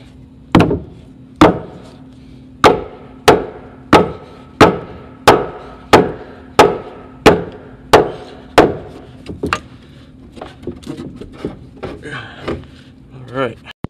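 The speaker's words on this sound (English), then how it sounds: "I just need to drive it toward the outside wall a bit." A wooden floor joist in a bathroom is driven toward an outside wall with about fifteen loud, evenly spaced hammer blows, followed by softer scattered taps and handling noises.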